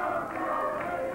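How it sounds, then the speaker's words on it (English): A professional wrestling crowd in an arena chants together for a wrestler, a steady, rhythmic roar of many voices heard from a distance and blended into one sound. "Let's go, Froggy, let's go. That's the cry from the crowd."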